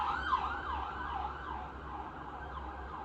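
Emergency siren passing outside, its wailing tone rising and falling repeatedly at a moderate distance over traffic rumble, fading slightly toward the end.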